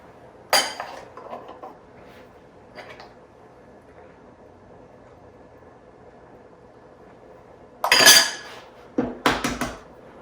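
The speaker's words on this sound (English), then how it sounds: "we're going to go ahead and crack some eggs in this bad boy." Eggs are cracked into a baking dish for Italian-style creamy baked eggs: a few sharp clinks and taps on the dish come in brief bursts, separated by long quiet stretches.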